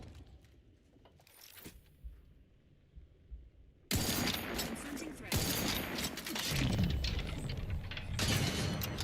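Gunfire in the video game The Outer Worlds 2, with a few isolated mechanical clicks and shots at first, then a sudden loud burst of dense, sustained shooting and impacts that keeps going to the end.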